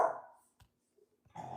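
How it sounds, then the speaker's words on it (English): A dog goes crazy barking nearby, with a loud burst at the start that fades, a short gap of near silence, then another rough bark or growl toward the end. "y'all hear my dog going crazy"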